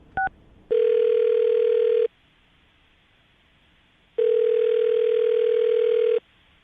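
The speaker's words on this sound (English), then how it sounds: "I'm about to dial Terrence's phone number" A telephone call being placed: two quick dialing beeps, then a steady ringback tone sounding twice in long, evenly spaced bursts with silence between, clear and alone.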